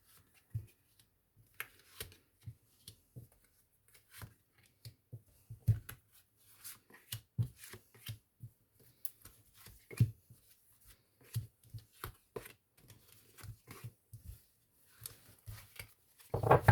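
Playing cards being shuffled for a nine-card tarot spread, a steady run of soft riffling and tapping bursts, fairly close and quiet, with no talking.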